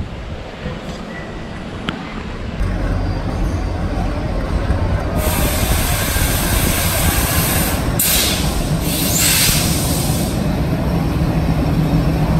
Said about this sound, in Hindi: दोस्तों फाइनली हम लोग हुबली जंक्शन से चल चुके हैं।